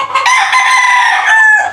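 A rooster on a farm crows loudly and close, one long strained call over nearly two seconds, with no voices.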